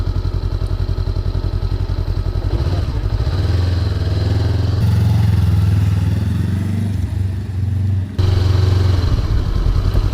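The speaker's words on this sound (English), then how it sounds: "we're test riding the CB500X" A Honda CB500X on a test ride gives a loud, close, continuous engine drone with a throbbing twin-cylinder pulse. The pitch shifts as it changes gear and revs, with rushing wind and no talk over it.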